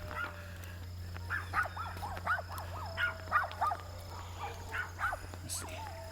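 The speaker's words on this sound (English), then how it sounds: "I think we got some chihuahuas or something coming up behind. They're barking back there somewhere." Chihuahuas yap repeatedly in the distance, high and thin, over a steady low hum and outdoor background noise.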